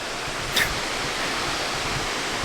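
A waterfall in a Washington park gives off a steady, broad rushing roar, with a brief faint click near the start.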